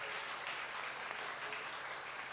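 An audience at the Digicel Stars talent show in Haiti claps in steady, sustained applause, a dense wash of many hands that holds at an even level throughout with no voices standing out.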